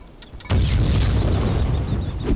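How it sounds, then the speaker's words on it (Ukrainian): A grenade goes off in the video game Vivisector: Beast Within, one loud, booming blast that hits hard and then holds as a dense roar of rumble and debris for nearly two seconds, with no talking. "Чого ви кидаєш гранати?"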